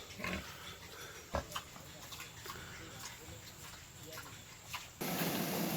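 Pigs on a hillside in a Nepalese village give short grunts and snorts amid steady outdoor noise, with a few sharper bursts, and a louder hiss of rushing sound near the end.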